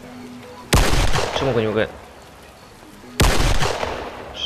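Two loud, sharp gunshots about two and a half seconds apart in the tactical shooter game I.G.I.2, set in a factory level, with someone speaking Polish between them.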